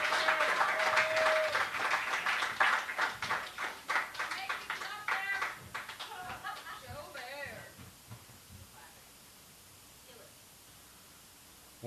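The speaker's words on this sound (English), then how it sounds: "can we have a round of applause for Joe Bear?" Audience applause at a poetry slam in an arts bar, a crowd clapping and cheering loudly, then thinning out and fading to quiet room tone, with voices mixed in.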